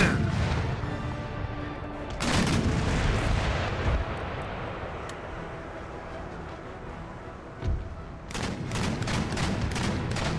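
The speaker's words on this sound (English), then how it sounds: "Hornets preparing a second broadside." Naval broadside cannon fire in Empire: Total War, with ships firing round shot, booms in loud rolling volleys: a heavy burst early, scattered thuds in the middle and a rapid cluster of blasts near the end.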